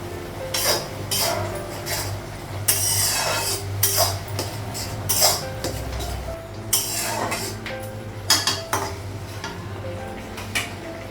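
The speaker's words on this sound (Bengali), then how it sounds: "ঢাকা ঢাকনা উঠানো।" A pot lid lifted and cookware clinking in a home kitchen, with repeated metal clatter, scraping and rubbing in irregular bursts, close and fairly loud, with no voices.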